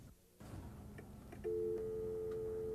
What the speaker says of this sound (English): There's a phone modem in the master controller, and we can dial it up now.